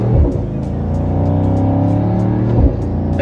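Engine of a 2024 Mercedes AMG GT63 idling loud and close with a deep, rumbling burble and a couple of sharper blips near the start and end.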